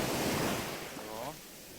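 Sea waves wash onto the sand at Haeundae beach in Busan, a steady surf roar with wind buffeting the microphone, loud and close, easing slightly toward the end.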